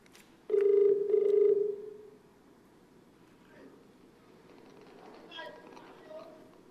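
A telephone rings twice in quick bursts, loud and close, during a live call-in segment of a Filipino television game show, followed by quieter studio murmur and faint voices.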